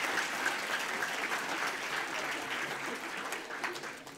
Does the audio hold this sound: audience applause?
yes